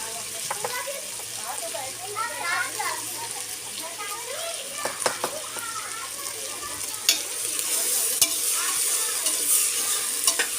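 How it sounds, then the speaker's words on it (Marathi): Chopped onions fry in a pan with salt added, giving a steady sizzle with occasional stirring scrapes, while voices, including a child's, talk nearby throughout. "जोपर्यंत माझं कांदा भाजला जातोय"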